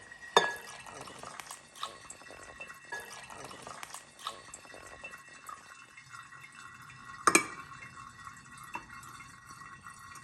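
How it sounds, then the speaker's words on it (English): Limoncello drips through a coffee filter into a glass container, with irregular close drips and small splashes, one sharper plink near the end, over a quiet background. "You're using a coffee filter and a drip to filter the limoncello."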